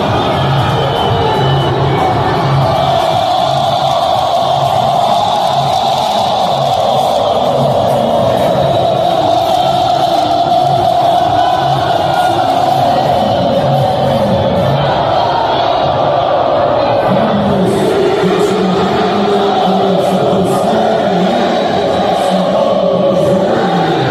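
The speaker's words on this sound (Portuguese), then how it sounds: "A torcida do Paysandu fez um recebimento espetacular no estádio do Mangueirão lotado" Packed Mangueirão stadium crowd of Paysandu football fans roaring and cheering continuously, a dense, loud wall of voices with shouts and whoops rising and falling throughout.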